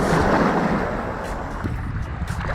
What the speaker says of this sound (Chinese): 哇，这荒岛的海浪挺大的。